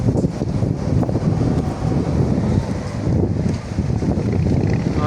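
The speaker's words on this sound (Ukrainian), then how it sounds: "Ось вітер" Strong wind gusting continuously across the microphone ahead of an approaching thunderstorm in Chernivtsi, a dense roaring buffet with no voices.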